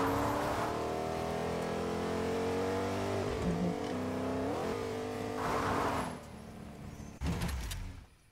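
A car driven in the video game Fortnite, its engine revving and shifting pitch steadily for several seconds, then dropping away, followed by a thump near the end, with no voices.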